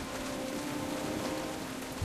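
Steady rain pours in a stormy night scene from Jurassic Park: The Game, a dense continuous hiss with no talk over it and a brief low thump at the very end.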